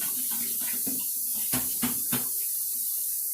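Macaroni being rinsed under a running kitchen tap, a steady close hiss of water with a few soft knocks and sloshes of pasta against the bowl or colander.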